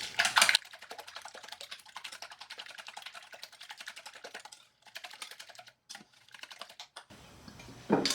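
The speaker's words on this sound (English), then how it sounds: "We're going to whisk that really well." Breakfast casserole ingredients, seasoned with salt and pepper, are whisked briskly in a bowl, giving rapid, light, even clicking and tapping that runs through most of the stretch with short pauses, close up and with no talk.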